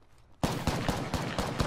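Rapid bursts of gunfire in the battle royale shooter Apex Legends, a fast string of loud, close shots starting abruptly and continuing steadily to the end.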